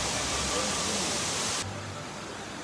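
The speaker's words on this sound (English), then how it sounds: "Those are pretty cool fountains." Amusement park water fountains give a steady, loud rushing spray that cuts off sharply near the end and leaves a quieter background wash.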